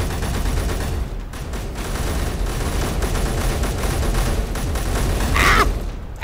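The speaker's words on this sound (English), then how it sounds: "I think I shot up a bunch of our own turrets." Dense, sustained turret gunfire rattles without pause through a firefight in the video game Escape from Purgatory, loud and continuous, with a brief brighter burst near the end.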